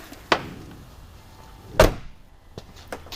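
The rear door of a Chevrolet Silverado or GMC Sierra pickup is shut, giving two solid slamming thuds about a second and a half apart, followed by faint lighter clicks.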